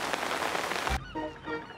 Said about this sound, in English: Oh dear, it is starting to rain.